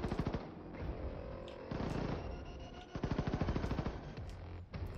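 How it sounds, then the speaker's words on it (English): Automatic gunfire in the video game Wolfenstein 2: The New Colossus, dense rapid bursts of shots in several volleys with short pauses between, loud and close, with no talk. "How do two guns shooting at a person that killed me?"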